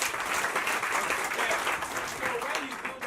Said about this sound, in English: You clap for yourself.